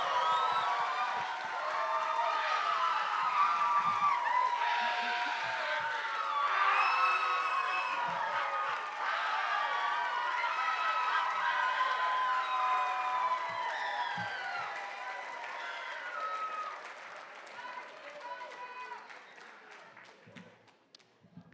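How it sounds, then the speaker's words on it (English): Crowd at a spring community college commencement ceremony applauding the graduates, sustained clapping with cheers and whoops that swell, hold, then taper off near the end, heard from a distance. "how about leading all of us in a big round of applause for all of the commencement graduates?"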